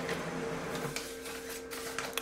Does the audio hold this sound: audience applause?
no